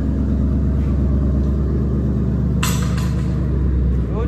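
A Ford Mustang engine runs steadily at close range, a continuous loud low rumble with a couple of brief sharp noises partway through and no talk over it.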